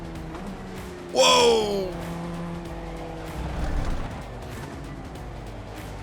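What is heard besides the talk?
race car spinning out with tire squeal in iRacing video game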